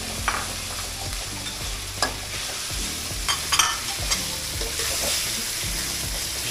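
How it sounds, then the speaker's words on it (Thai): Pork stir-fried in a pan for a chu chee curry with long beans: a continuous hot sizzle broken by frequent clanking scrapes of a spatula, close and fairly loud with an uneven rhythm. "นี่ก็จะทำการใส่เนื้อหมูลงไปครับ"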